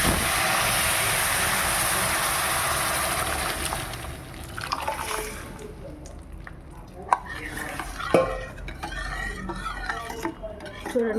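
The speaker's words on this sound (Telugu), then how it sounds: "ఎండుమిరపకాయలు, జీలకర్ర, ఆవాలు, కరివేపాకు, వెల్లుల్లిపాయలు తాలింపు వేసుకుంటాను." Dried red chillies, cumin, mustard seeds, curry leaves and garlic sizzle hard in hot oil for papaya dal, a loud steady frying hiss that eases partway through, with scraping stirs and clinks of a spoon against the pan.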